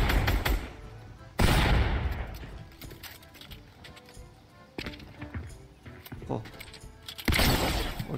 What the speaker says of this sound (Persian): دارم توی دلش تیر میزنم نمیخوره